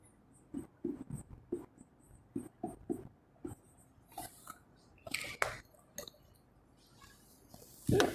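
A pen or marker writing on a board in a class lesson makes soft, irregular scratchy strokes in short bursts, fairly quiet, ending with a louder rub or scrape.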